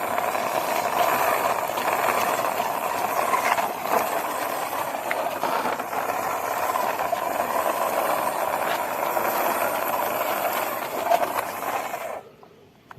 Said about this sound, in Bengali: আমার সেকেন্ড ভেহিকলসটি হলো একটি ম্যাকুইন রেসিং কার। চলো আমি এখন এটিকে ড্রাইভ করব